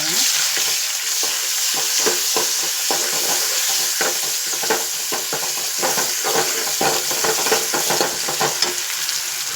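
Cumin, garlic and chillies fry in hot oil, a loud constant sizzle broken by repeated scraping and stirring strokes in the pan throughout, with no talking.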